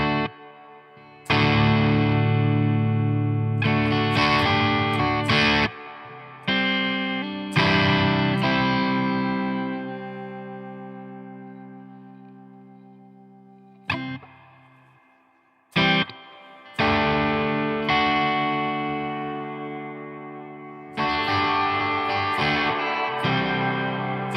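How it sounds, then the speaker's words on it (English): Electric guitar played through the Nembrini JMP Pro amp app with a large reverb dialed in: loud, slightly driven chords and notes ring out with long washing tails, broken by abrupt stops and short silences. "Let's mess around with the reverb"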